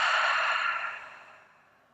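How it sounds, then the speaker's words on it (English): A single long breath pushed out through the mouth during a yoga session, a soft, airy rush that starts strong and fades away over about two seconds. "Big breath in through nose, out through mouth."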